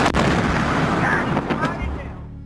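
Fertilizer plant explosion in news footage: a loud, broadband blast with rumbling low end and crackling debris, sustained for about two seconds before fading, with fire roar underneath.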